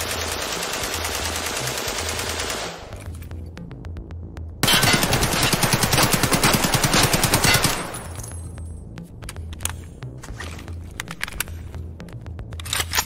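Sustained automatic gunfire in a video game rattles in loud rapid bursts, one long stretch at the start and a second denser burst in the middle, followed by quieter scattered shots.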